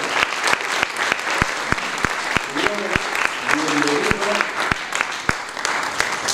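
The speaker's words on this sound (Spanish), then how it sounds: "vamos a recibirlo con un caluroso aplauso orizabeño" An audience at a public talk on the tunnels of Orizaba claps warmly to welcome a speaker: a steady, dense patter of many hands with crisp individual claps, voices murmuring underneath throughout.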